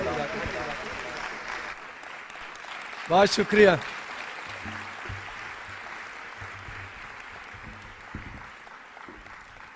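Church congregation applauding a preacher's sermon on Psalm 127, a short burst of clapping rising briefly and fading, followed by a quiet room tone with someone speaking.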